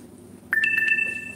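Phone low-battery alert chiming once, a bright sustained two-tone electronic tone starting abruptly over faint background hum, close and clear.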